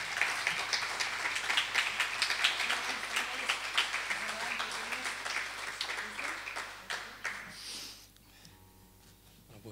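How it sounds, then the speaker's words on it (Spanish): An audience applauds an album's producer, a crowd clapping with distinct individual hand strikes, fairly close and lively, fading out near the end into quiet room tone. "pido un aplauso para él"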